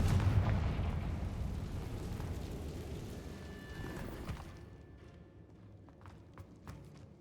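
A Confringo blast spell goes off in Hogwarts Legacy inside a cavern: a loud, booming explosive rumble at the start that slowly decays into a long reverberant tail, with scattered debris clatter near the end.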